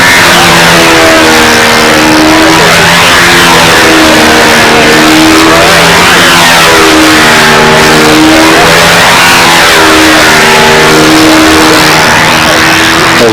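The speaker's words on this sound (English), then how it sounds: "As the tripe goes through its paces on one engine." A small engine on a stunt triplane model drones loudly and without a break, its pitch rising and falling in repeated waves as it works through aerobatic passes with its top wing missing.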